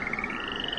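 A chorus of frogs croaks with a steady, dense trilling hum, continuous and fairly loud, with no voices over it.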